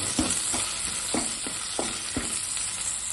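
Onions and okra sautéing in a pan for a quick curry: a steady sizzle runs throughout while a spoon scrapes and stirs in about six regular strokes, close and fairly loud, with no talk.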